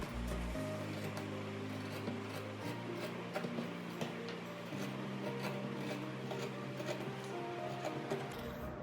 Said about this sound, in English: I'm going to cut the seam allowance in half all the way along this curved edge